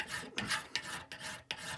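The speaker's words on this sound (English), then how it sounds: "I know, shock on this channel, a bit of hand filing." Brass is hand filed for a hammer build: steady, close rasping strokes repeat in a regular back-and-forth rhythm, a couple of strokes marked by sharper onsets, and no talking.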